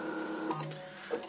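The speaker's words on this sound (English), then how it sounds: "And watch the motor turn." Z-axis stepper motor of a wooden homemade 3D printer turning to move the print bed, a soft steady mechanical whir with a brief brighter whine burst partway through, close and fairly quiet.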